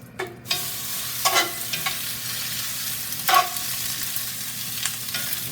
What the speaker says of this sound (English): We're going to saute this until it browns up